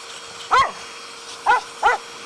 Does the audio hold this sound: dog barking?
yes